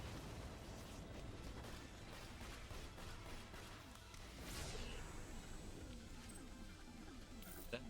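Grenades blowing up in Borderlands 2, a dense cluster of bursts and whooshing blasts layered over constant game music and effects, with one bright sweeping detonation midway through.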